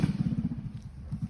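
A mini bike with a big exhaust and air filter putters in a short, rapid, uneven engine pulse, loud and fairly near, briefly dipping before picking up again.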